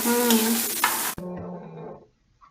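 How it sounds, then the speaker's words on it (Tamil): Onions sauté in oil in a pan for mutton fry, a loud close sizzle with stirring that cuts off abruptly after about a second, leaving a fading hiss. "இந்த வெங்காயம் வதங்கி போட்டுப்பா"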